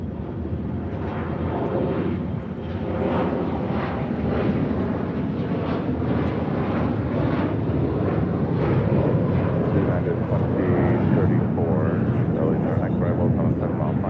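A Lufthansa Boeing 747 'Queen of the Skies' lands at LAX in wind, giving a loud, sustained jet roar that swells gradually throughout. People talk over the noise.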